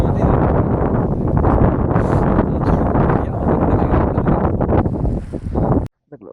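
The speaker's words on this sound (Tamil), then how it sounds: "வெளியே அடிக்கிற காற்று இப்போ தான் பயங்கரமாக கொடுக்குது." Strong wind buffets the microphone beside Pangong Lake in loud, roaring gusts that rumble continuously before cutting off abruptly near the end.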